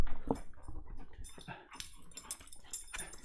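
A big pet dog makes soft whimpering and snuffling noises close by, with scattered rustling and faint movement in a quiet room.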